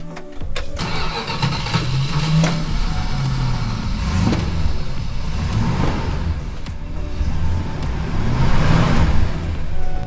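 A 1966 Plymouth Satellite cranks and fires up, then its engine revs and settles into a loud, rumbling idle that swells again near the end, steady and close with no talking.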